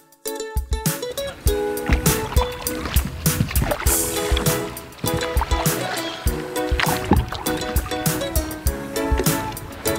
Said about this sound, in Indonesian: Menikmatinya begini kakak, bersampan, santai